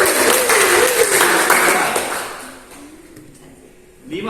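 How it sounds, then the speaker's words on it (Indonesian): Classroom applause for the winning group during a team game, a dense burst of clapping that fades out over a few seconds before a voice returns. "Tepuk tangan kelompok 1."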